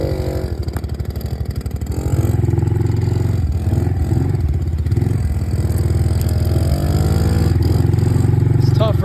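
A dirt bike engine revs hard and steady on a snowy homestead ride, its buzzing drone close and loud throughout and climbing in pitch about two seconds in.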